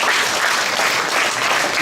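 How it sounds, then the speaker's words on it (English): An audience applauds at an inter-school house cup awards ceremony, a dense, steady round of clapping from many hands that continues evenly throughout with no speech over it. "if we can give a big round of applause"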